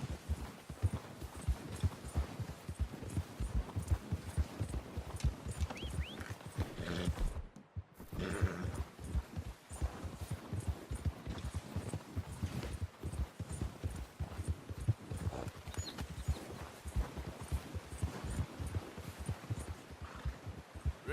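Horse hoofbeats galloping in Red Dead Redemption 2, a steady rapid clip-clop rhythm running nearly the whole time, close and fairly loud, with one brief break in the middle and no talk over it.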